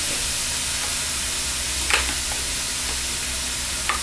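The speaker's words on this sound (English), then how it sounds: "That's a good sizzle, yeah." Corn browns in a hot pan with a steady, even sizzle and a soft frying hiss, with a couple of brief stirring scrapes.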